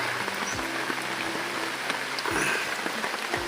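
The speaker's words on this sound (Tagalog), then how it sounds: "lakas ng ulan." Heavy rain pours down steadily in a dense, hissing wash, with occasional thuds and drips breaking through the constant downpour.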